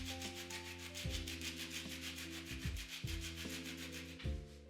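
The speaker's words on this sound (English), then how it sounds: "Grate in a little lemon zest." Lemon zest grated over a large bowl of soft cheese, heard as a run of quick, repeated rasping strokes, close and fairly steady, over a soft musical background.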